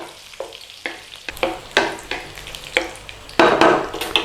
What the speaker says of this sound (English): this is a real quick fry of the chilies